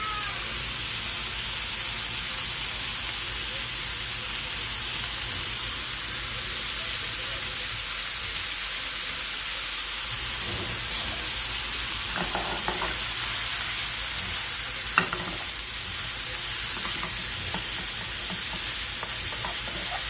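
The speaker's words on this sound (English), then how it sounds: "It's already starting to fry because it's super thin, so it cooks a lot faster." Thin slices of prosciutto sizzle steadily in a pan throughout, seasoned with pepper for a smoky pasta dish, with occasional stirring clatter around the middle and no voices.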